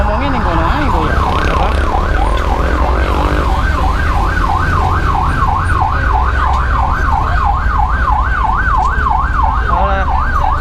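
An ambulance siren wails loud and close, a rapid rising-and-falling yelp that repeats steadily over a low traffic rumble.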